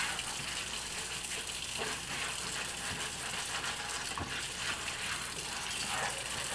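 A Scrub Daddy sponge scrubbing food particles off a cutting mat under running water, a steady close wet rush with scattered scraping and splashing.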